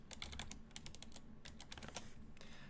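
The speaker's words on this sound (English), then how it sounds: "we'll type in DistilBERT in all caps" Fingers type rapidly on a computer keyboard, a close run of quick, light key clicks in uneven bursts, quiet and with no talking.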